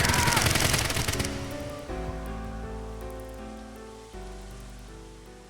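Gunfire in the video game AI: The Somnium Files nirvanA Initiative opens as a loud, dense burst of rapid shots that cuts off after about a second, leaving sustained game music that swells again later.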